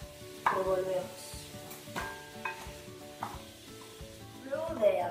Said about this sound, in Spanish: Luego de haber mezclado la carne picada con la cebolla, vamos a dejar que la carne picada se cocine